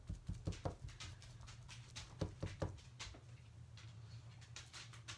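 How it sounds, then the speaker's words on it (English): A Labrador's claws clicking on a kitchen floor as she walks in circles, a quick irregular patter of light taps, somewhat distant and faint over a low steady hum, with no talking. "Can y'all hear my dog clicking around in the kitchen?"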